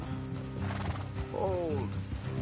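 Horses in the Red Dead Redemption 2 video game whinny loudly once with a rising-falling neigh, amid a low engine-like hum and soft hoof clops, all fairly close.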